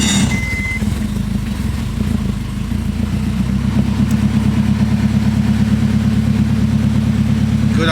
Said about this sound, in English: So look how much better it starts now.